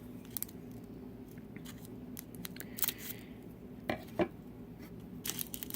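Scissors snip open small bags of diamond painting drills in a few quiet, close cuts, with light plastic crinkling between them.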